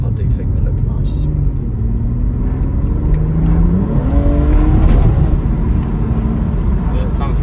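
A 2020 BMW 440i M Sport Gran Coupe with its 3.0-litre B58 straight-six engine, its revs rising and falling in a steady, loud drone during a drive, with cabin talk running over it.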